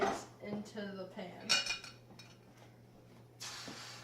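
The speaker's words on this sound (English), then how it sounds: "We're going to dump the eggs into the pan." Eggs tipped into a pan with a clatter of pans and utensils, a few clinks and scrapes in quick succession, then a brief rattle near the end; a voice murmurs faintly early on.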